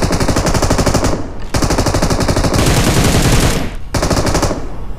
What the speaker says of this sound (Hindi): मशीन गन वाला इसको फायर कर रहा था गाइस